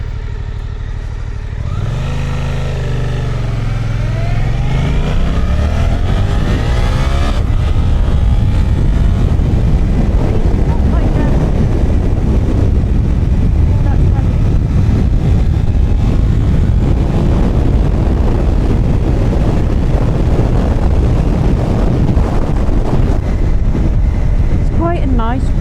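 A Suzuki GSX-8R on the move climbs through a few revving gear sweeps, then settles into a loud, constant rush of wind buffeting that swamps the engine, heard from the rider's position.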